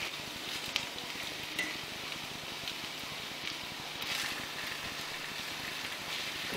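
Escalopes fry in a pan beside a cooking stew, giving a steady, fairly quiet sizzle that crackles like light rain with a few sharper pops scattered through.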